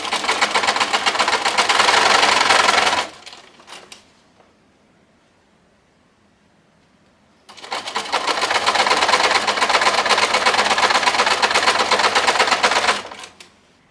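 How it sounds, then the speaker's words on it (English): Sewing machine stitching a fold on a bridal gown, running in two loud, steady bursts of rapid chunky mechanical chatter, with a quiet pause between them. "does your machine sound like that? So chunky, chunk, chunk, chunk, chunk, chunk."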